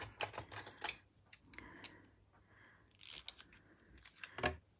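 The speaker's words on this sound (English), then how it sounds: "I'm going to have to cut the excess away" Quiet snipping and crinkling of scissors cutting tape, a few short bursts of cuts separated by soft pauses, close by.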